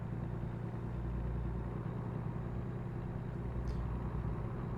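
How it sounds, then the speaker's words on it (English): A truck engine idles in the American Truck Simulator video game, a low, steady rumbling purr that holds constant throughout at moderate volume with no voices. "you get the soft purr of the engine"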